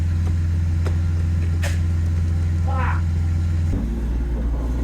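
A BMW E36 with a noisy differential while driving, steady low drivetrain drone and road rumble throughout, with a few brief voices and clunks over it and a shift in the drone near the end.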